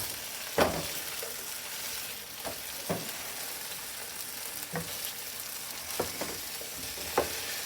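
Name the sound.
potatoes and pork chops frying and stirred with spatula in pan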